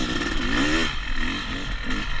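A Yamaha YZ250X two-stroke dirt bike revs in second gear on a whooped-out trail, its engine note rising briefly then dropping and sputtering unevenly, close and loud.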